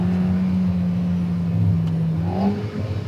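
Alpine A110 R sports car on the move, its engine holding a steady droning note before rising in pitch as it revs, heard from inside the cabin at a fairly loud, sustained level.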